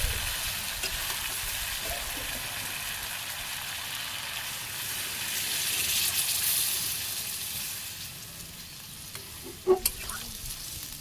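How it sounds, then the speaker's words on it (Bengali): Sautéed vegetable curry sizzles steadily in a pan after a little water goes in, a loud continuous frying hiss that swells slightly midway, with a sharp clatter near the end. "সবজি কষানো হয়ে গেছে, ঝোল দিয়ে দিই।"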